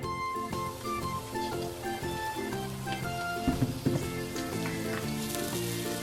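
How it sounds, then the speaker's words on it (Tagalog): Bitter gourd (ampalaya) sautés with garlic in a hot pan, a steady close sizzle running the whole time beneath a layer of music, with a few louder spatters midway. "Ayan, nagigisa na natin ang ating ampalaya."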